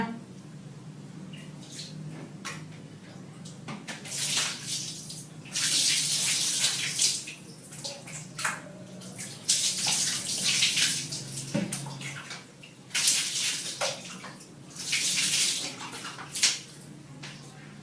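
Tap water runs while someone washes their face, a close splashing stream that rises and falls in bursts as hands move through it, with brief quieter gaps between the surges.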